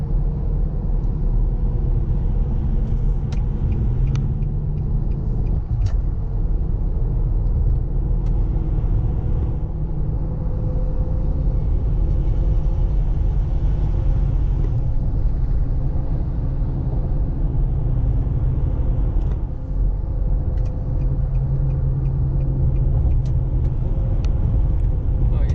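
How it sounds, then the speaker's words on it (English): Infiniti QX56 cruising on the freeway, a continuous low road and engine rumble with tire noise heard from inside the cabin, steady throughout with faint occasional knocks. "So here I am getting on the freeway."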